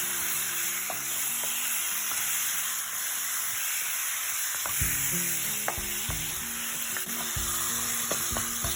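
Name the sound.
stirring mutton with masala in a pan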